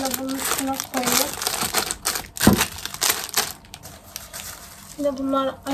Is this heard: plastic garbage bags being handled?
yes